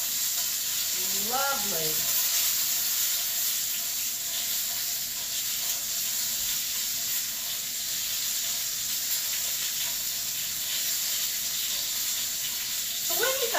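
Boneless chicken thighs sizzle steadily in a hot pan, a loud continuous frying hiss running throughout, briefly interrupted by a short spoken word.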